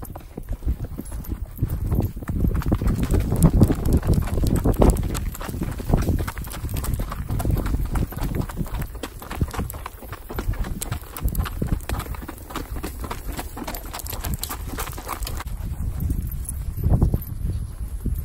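Horses' hooves clip-clop along an outdoor trail ride, many overlapping steps in a steady loose rhythm, close and continuous, with faint voices in the background.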